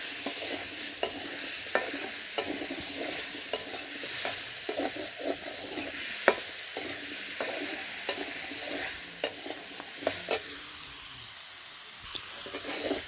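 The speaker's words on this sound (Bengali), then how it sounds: "মিষ্টি আলু আর পুরকল আর এই যে কামাঙ্গা এগুলো একটু কষিয়ে তারপর জল দিয়ে দেবো" Sweet potato, eggplant and star fruit being stirred in a hot pan with salt, turmeric and chili for a sour vegetable curry: a steady sizzle with repeated sharp scrapes and clinks of the spatula, which thin out near the end.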